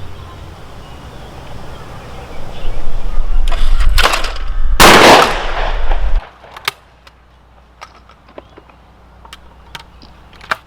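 A Browning Citori 725 High Rib Trap 12-gauge shotgun fires at trap targets on an outdoor range, with a couple of loud, close blasts followed by fading echoes and scattered small clicks.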